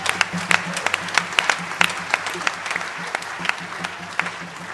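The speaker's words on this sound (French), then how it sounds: "On peut l'applaudir pour ça." An audience at a stage show gives scattered, fairly close applause: sharp individual claps ring out over a softer bed of hands, thinning slightly toward the end, with faint voices mixed in.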